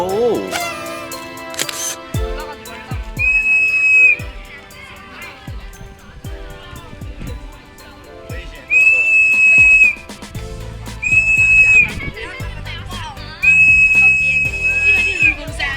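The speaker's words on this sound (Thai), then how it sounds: "เราเห็นตำรวจเขาเป่านกหวีดใช่ไหมครับ" A police officer blows a whistle at Mount Fortress in Macau. The shrill blasts repeat several times, each lasting about one to two seconds, over background crowd noise, camera clicks and a ticking sound.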